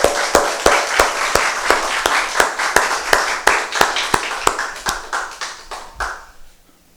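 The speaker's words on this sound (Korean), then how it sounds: "우리 하나님께 한번 뜨거운 감사의 박수 한번 올려드릴까요?" A church congregation at a Sunday service claps in unison, a steady run of sharp, roomy hand claps at an even rhythm that thins and fades out at the end.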